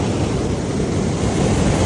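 Large sea waves breaking on a Thai beach in January, a loud, continuous rushing surf roar that stays steady and close throughout with no voices.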